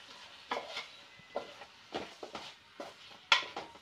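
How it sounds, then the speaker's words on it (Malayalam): Chicken egg fried rice with vegetables being stirred in a pan at home, a spatula scraping and clinking against the metal in irregular strokes roughly every half second, over a faint sizzle. "നമുക്ക് നന്നായിട്ട് ഇതെല്ലാം കൂടെ മിക്സ് ചെയ്യണം"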